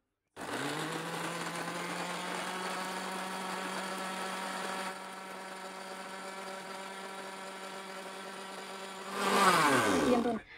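A kitchen blender whirs steadily as it purees kencur, shallots, garlic, chili and a little water, running loud and even for several seconds, dropping to a lower hum, then briefly surging before switching off.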